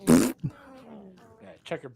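A short, loud fart sound effect inside a song bursts out at the start, followed by people talking casually over the music.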